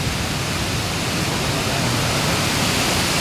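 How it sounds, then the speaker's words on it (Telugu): Water rushing through the fully opened gates of Sunkeshwara dam, a dense, loud, unbroken roar filling the whole span without pause. "చూడండి వాటర్ ఎంత ఎక్కువ పోతుందో."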